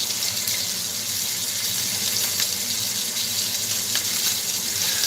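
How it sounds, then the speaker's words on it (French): Mushrooms sizzle in a pan while their oil and water cook off. The frying hiss is steady and close, with small crackles and pops, and no talking. "Ici, je laisse évaporer l'huile"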